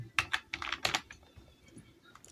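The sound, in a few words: typing on computer keyboard in Excel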